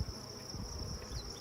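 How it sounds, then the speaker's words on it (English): Honey bees buzz steadily at an open hive during re-queening with VSH queens, a continuous low hum with a few brief higher whines, moderately close and alone. "This is the frame I'm gonna put them in, so shake these bees off."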